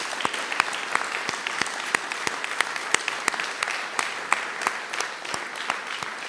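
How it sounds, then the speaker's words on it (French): An audience at a town hall New Year's ceremony applauds the municipal music school musicians, with sustained crowd clapping made of many dense, overlapping hand claps. "On peut les applaudir."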